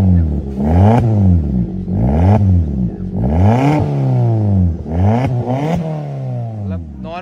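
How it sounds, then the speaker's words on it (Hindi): A modified Maruti Swift with a full exhaust pipe revs hard at close range, with roughly five throaty rising-and-falling sweeps in quick succession and no talking. "नॉर्मल साउंड है, जैसे डीजल में लोग एग्जॉस्ट लगवाते हैं वैसी साउंड आती है ना नॉर्मल, ये वही साउंड है भाई।"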